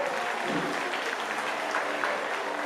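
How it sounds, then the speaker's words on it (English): Audience applause at a SeaWorld Orlando animal show, a steady crowd of hands clapping in a large outdoor stadium, fairly distant and sustained evenly from start to finish. "you can give them a round of applause"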